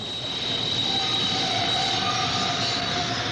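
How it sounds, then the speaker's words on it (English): A subway train rumbles into a station, a loud steady roar of wheels on rails with high squealing tones drawn out over the whole stretch and no talking. "wait for the subway train"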